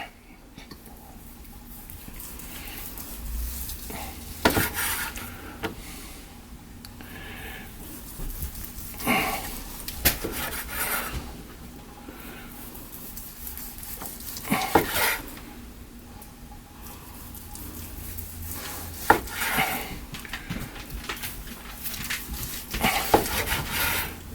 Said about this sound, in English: We'll slice it up, show you what it looks like